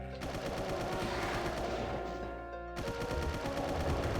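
Chaingunner enemies in a Doom-style game level fire rapid continuous bursts, a dense rattle of gunfire with a short pause, loud and close.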